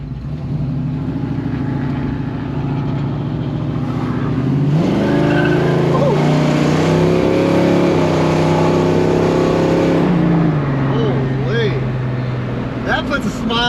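A 1969 Ford Mustang engine rumbles loudly while being driven, rising in pitch as it accelerates midway, then settling back to a steady drone, with a person talking over it.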